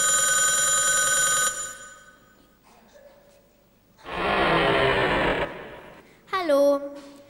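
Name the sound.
telephone ringing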